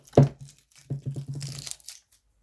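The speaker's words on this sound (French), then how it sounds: "Par contre, le scotch, tu peux partir" Adhesive tape is ripped off a Godzilla figurine in a sharp pull, followed by a series of quick crackling tears, close up with no talking.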